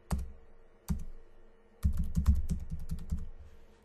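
Someone types on a computer keyboard to enter a password: a single keystroke, another a second later, then a quick run of close, crisp key taps, all near and with no voices.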